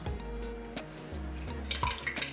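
An egg and a tablespoon of water are beaten together in a bowl for egg wash, giving quick clinks and taps of utensil against dish with a wet swishing, close up and steady.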